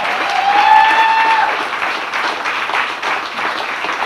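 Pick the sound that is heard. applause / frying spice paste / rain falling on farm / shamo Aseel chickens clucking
applause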